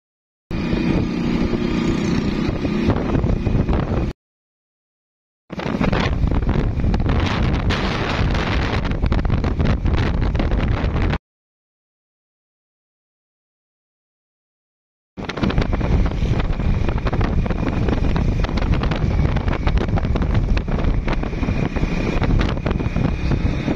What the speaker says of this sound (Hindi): हवा इतनी तेज चल रही है कि बाइक भी हमसे नहीं चली जा रही